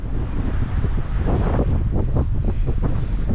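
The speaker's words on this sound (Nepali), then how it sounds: "आज हावा बबल आयो है हावा मस्त आउँदो रहेछ" Strong wind buffets the microphone on an open hilltop at Love Dada, a steady loud roar with surging gusts throughout and no voices.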